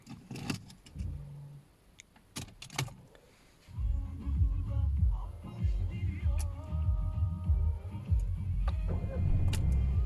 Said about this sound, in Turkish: Ben araba marş basacağım.